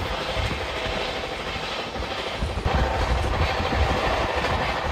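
The 12337 Shantiniketan Express runs through Begampur station without stopping, its loud, continuous rumble carrying a rhythmic clickety-clack of wheels over rail joints that swells slightly toward the end.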